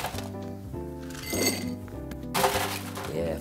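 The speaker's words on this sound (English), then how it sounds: "In a highball glass, just add some ice." Ice cubes drop into a highball glass for a cocktail, giving a few bright clinks and rattles against the glass over a humming background.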